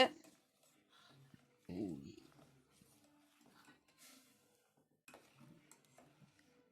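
A spoon scrapes and stirs thick jaggery in a pot, with a louder scraping burst partway through, mostly under a woman's speech in Tamil.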